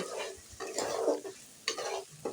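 Bottle gourd curry being stirred in a pan on the stove, with soft sizzling and a few scraping strokes of a spoon against the pan, heard close up and without any voices.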